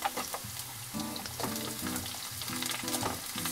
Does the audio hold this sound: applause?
no